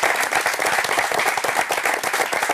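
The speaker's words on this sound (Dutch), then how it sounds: "Applaus." Dense, steady applause from an audience at a sports evening in an arena, a continuous wash of many hands clapping close and loud throughout with no speech over it.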